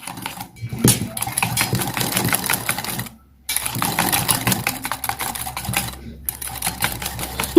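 Cake batter for a moist chocolate cake is whisked by hand in a tub, a fast steady scraping and clicking rhythm that pauses briefly twice and then resumes, close and fairly loud.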